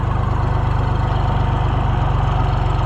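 A John Deere 1020 tractor engine runs steadily close by, a loud low-pitched even chugging with a rapid regular firing pulse and no voices.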